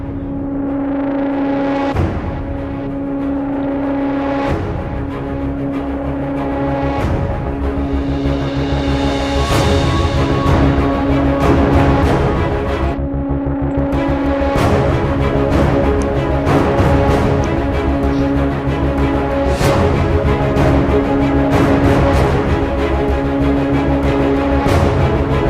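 An orchestral track built in Komplete 9 plays at full, steady loudness, with Action Strings layered over a sub bass. Percussive hits are spaced through the dense mix, and no voices are heard.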